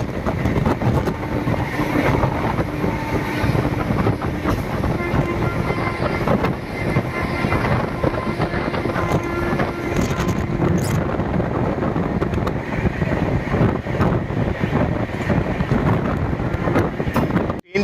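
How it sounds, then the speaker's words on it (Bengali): Kumbh Express train running at speed past Dankuni station, a continuous loud rumble and rattle with heavy wind buffeting throughout and no talk. "ট্রেন চলছিল 130-এ"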